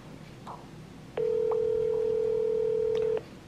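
A steady phone dial tone sounds for about two seconds after a brief click, loud and continuous, then cuts off into faint room noise, with no talking.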